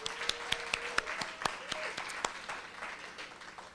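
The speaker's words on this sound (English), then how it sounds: "Can we please give Fabiana another round of applause?" A round of applause for Fabiana at an awards ceremony, with several sharp close claps standing out over a broader crowd clapping that gradually thins and fades, while faint voices murmur underneath.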